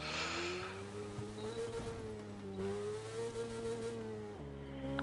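A video game motorcycle engine revving, a steady droning tone that rises and dips in pitch across a few seconds, then drops lower near the end, faint and alone without talk.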